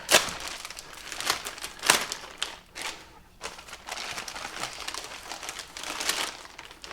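A big plastic bag holding a Cetme C parts kit crinkles and rustles close by in repeated bursts of handling, with some sharper crackles and short pauses in between.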